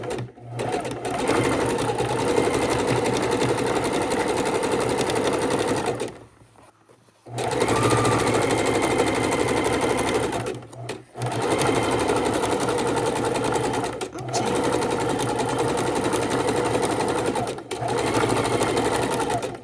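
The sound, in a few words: sewing machine stitching raw edge appliqué heart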